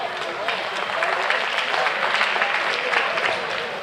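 A crowd at a junior livestock show swine class breaks into sustained applause, dense steady clapping filling the arena for the whole stretch at fairly loud level.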